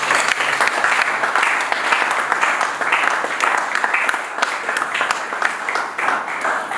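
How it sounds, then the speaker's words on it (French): A church congregation applauds and cheers to acclaim the Lord, with dense, sustained clapping from a large crowd filling the room at a steady, loud level throughout. "Est-ce que nous pouvons acclamer pour notre Seigneur?"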